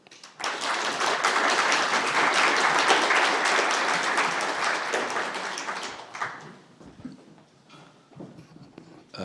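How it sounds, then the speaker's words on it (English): An audience at a lecture on globalization applauds the incoming professor, a loud, full burst of clapping that lasts about six seconds, then thins to scattered claps and room noise. "Please give a warm round of applause for Professor Yen."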